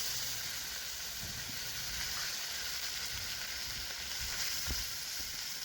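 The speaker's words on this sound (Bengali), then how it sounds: "এবারে মশলাটা আমি খুব ভালো করে ভেজে নেব" A paste of ginger, garlic and onion sizzles steadily in hot oil in a pan, an even, loud frying hiss that holds throughout with a few faint knocks, up close and with nobody talking.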